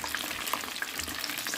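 Battered, chili-seasoned shrimp fry in hot oil in a pan, giving a steady, loud, dense sizzle with small crackles throughout as the pieces are turned to brown evenly.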